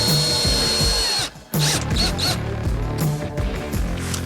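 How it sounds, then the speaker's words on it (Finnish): A power drill bores test holes into wall paneling inside a van being converted into a camper, loud whirring bursts with a short pause partway through, no voices. "nyt me tehdään demoreijätykset, eli me porataan tohon ja tehdään testikiinnitys"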